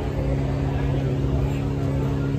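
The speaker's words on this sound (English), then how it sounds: "Here comes our BMW." BMW car pulling up at a restaurant valet stand in Newport Beach: a steady, fairly loud engine rumble and low hum close by, continuous through the short stretch.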